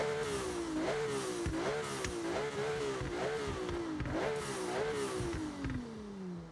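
A twin-turbo hybrid V6 engine from an F1 car in the Forza Horizon 6 video game revs up and down repeatedly in rhythmic surges, then winds down toward the end, close and steady with no talking.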